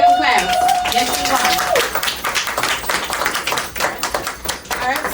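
Audience members at a self-love event clapping, a scattered run of hand claps following a speaker's voice, irregular and moderately close, tapering toward the end.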